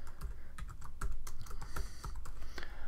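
Rapid keystrokes on a computer keyboard, typed into a text block in a screen-recording app, with clustered clicks and taps that stay steady and close.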